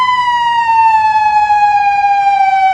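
Police vehicle siren wailing loud and close, a steady tone gliding slowly downward with strong harmonics and a faint low rumble beneath, heading out to lead a big raid.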